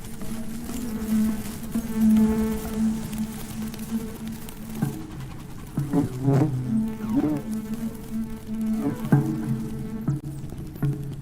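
Bumblebee buzzing near a string-pulling nectar reward task, a steady low hum that holds on for several seconds and then swells into louder, wavering bursts as the bee moves around close by.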